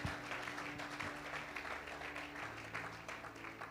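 Congregation in a church applauding for the Lord during a French-language sermon, a steady wash of clapping over a sustained musical drone throughout.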